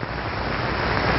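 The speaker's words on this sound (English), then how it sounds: "A wind machine sends a column of air through it." A wind machine drives a steady column of air through a metal Venturi tube in a lab setting, giving a continuous broadband rushing roar, even and unbroken, close and fairly loud with no talk.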